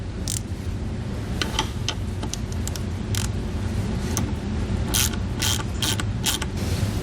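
A ratchet with a short 1/2 inch socket turns bolts on a 2021 Chevrolet frame rail during a B and W Companion 5th wheel underbed kit install, giving bursts of quick clicking over a steady background hum.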